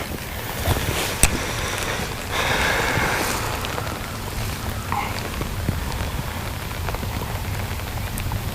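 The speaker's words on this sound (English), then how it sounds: "It looks like we are going to get some rain here." Rain falls steadily on a boat during a fishing outing, a dense continuous patter with a few sharp knocks, and no talk.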